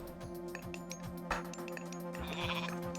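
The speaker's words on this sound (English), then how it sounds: "Almost fully fattened neutral goats." Goats bleat in the Age of Mythology strategy game, a few short bleats over a steady game ambience with faint clinks, close and fairly quiet, with no talk.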